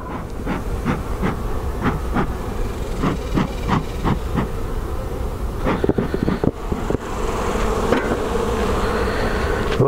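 Honey bees buzz steadily and close throughout a full brood chamber hive inspection, with repeated clicks and knocks from handling frames and boxes over the dense hum.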